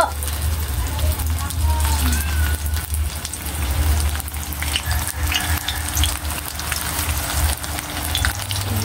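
Eggplant frying in a pan for a Filipino home meal gives a loud, steady crackling sizzle with bubbling oil and occasional stirring, close by, while a person talks over it.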